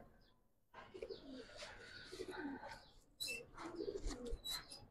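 Pigeons at a Bangladeshi pigeon seller's loft, silver, Pankhi, Sabchila and colored breeds, coo repeatedly at close range with soft throaty rolls and a few chirps, after a brief quiet opening.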